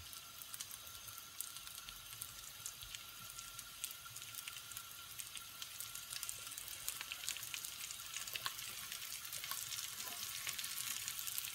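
Beef involtini, meat rolls with rocket and Grana cheese, browning in a hot pan, giving a steady, fairly quiet sizzle with scattered crackles and pops that grow slightly busier over time, with no voices.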